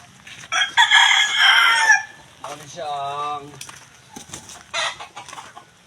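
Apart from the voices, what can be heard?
chickens and roosters crowing and clucking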